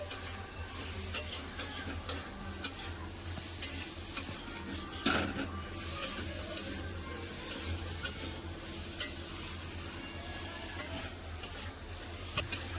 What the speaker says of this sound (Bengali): এবার ভেজে রাখা আলু দিয়ে দেবো আবার ভালো করে সব কষে নেবো